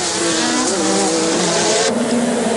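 A 1986-season Formula 1 race car screams past at full revs, a loud high engine whine that shifts pitch near the end, with no voices.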